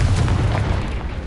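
Confringo fire spell explosion in the Hogwarts Legacy video game, a deep rumbling boom that fills the short moment loudly and fades slowly with a heavy low-end roar.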